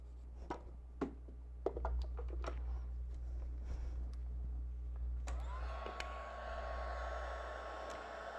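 A heat tool switches on partway through and blows a steady, faint whooshing stream of hot air to set ink on a gourd, after a few soft taps and rustles.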